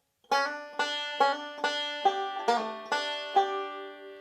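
Plucked banjo plays a roll with hammer-ons: about nine bright, twangy picked notes in an even, steady rhythm, clear and close with ringing overtones and no talk.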